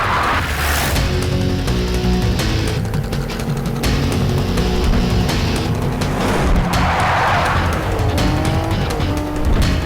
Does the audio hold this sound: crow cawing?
no